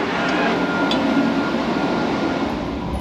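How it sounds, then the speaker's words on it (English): The Skylink airport train at Dallas Fort Worth rumbles along in a steady, loud interior roar with a faint whine, no speech, and the drone continues evenly throughout. "This train is departing."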